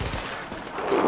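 Gunfire in the shooter game Tom Clancy's The Division: a brief, dense burst of shots blurring into a rough rumbling crackle, fairly close and loud, with no talking.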